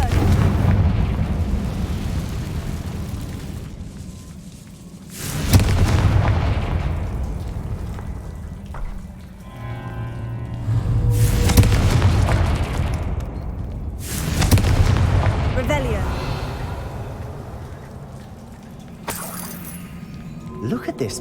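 Fiery Confringo spell blasts in the video game Hogwarts Legacy: several sharp booming bursts spaced a few seconds apart, loud against a steady game backdrop, with a voice speaking in between.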